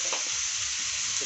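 Minced meat for samosa filling fries over high heat in a pan while being stirred, producing a brief, dense sizzle with soft scraping underneath.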